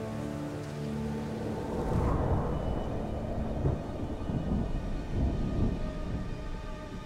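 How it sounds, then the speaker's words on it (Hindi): A thunderstorm with steady heavy rain pouring down and a deep rumble of thunder rolling in about two seconds in, continuing under the downpour. "हमारा तूफान इंटेंस हो रहा है।"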